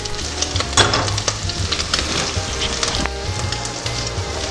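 Leek and crispy sausage sizzling in a hot pan for a saffron sauce, a steady close frying hiss with occasional stirring scrapes and no talk.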